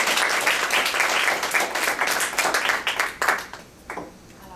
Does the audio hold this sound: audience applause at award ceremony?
yes